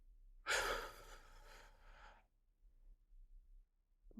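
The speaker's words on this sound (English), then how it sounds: "big breath in and blow it out" A single big breath drawn in and then blown out in a long, audible exhale during a mindfulness exercise, close and soft, then quiet breathing afterward.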